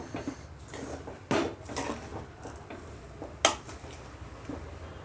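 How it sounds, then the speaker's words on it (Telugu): A spoon stirs Rayalaseema-style uggani with squeezed lemon juice in a pot, giving soft scraping and a few sharp metallic clinks against the vessel, close and fairly quiet. "ఇలా నిమ్మపండు అంతా పిండుకున్న తర్వాత బాగా కలుపుకోవాలి."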